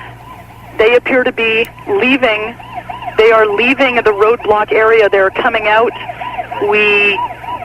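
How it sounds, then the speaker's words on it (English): Ambulance sirens wail steadily in the background while someone talks over them in a continuous report. "I don't know if you can hear the sirens in the background."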